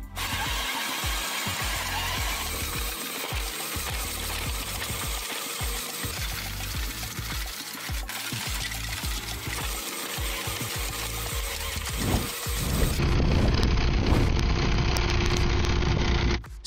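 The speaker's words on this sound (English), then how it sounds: "This efficient and powerful skid steer trencher attachment is capable of cutting through rocky soil" A skid steer trencher attachment cutting through rocky soil, a steady loud mechanical grinding and engine drone throughout, rising to a heavier, harsher roar near the end with no talk.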